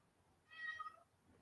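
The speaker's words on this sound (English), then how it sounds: "Hear the cats? My wild cats outside." A single faint, drawn-out meow from a wild cat outside, heard alone at a distance against a quiet background.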